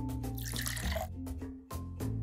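Water poured onto a daisy plant in a Sesame Street video game, with a short trickling, splashing pour over steady game music, ending in a brief break and the tune continuing.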